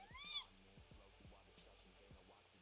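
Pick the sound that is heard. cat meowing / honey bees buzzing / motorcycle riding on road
cat meowing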